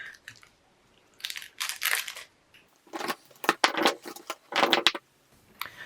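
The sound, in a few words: crunching and chewing a sugary sweet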